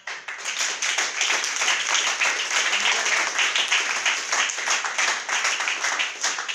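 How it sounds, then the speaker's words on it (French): A church congregation at an anniversary service claps and applauds steadily, a dense, loud wash of hand claps that holds for several seconds with a few voices mixed in. "J'aimerais vraiment que vous puissiez acclamer pour vous-même."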